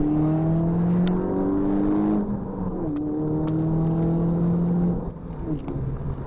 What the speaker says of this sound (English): Nice engine noise coming back from this. Not too much, not too harsh.